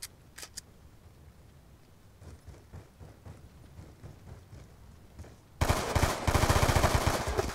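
Machine gun fire in Call of Duty: Black Ops II, a run of faint rapid bursts followed by a sudden loud, dense stretch of automatic gunfire near the end.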